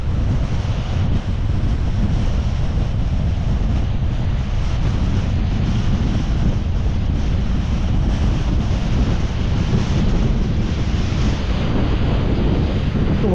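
Strong wind gusting across an exposed mountain ridge at Creag Meagaidh in the Scottish Highlands, a loud continuous roar buffeting the microphone with no let-up.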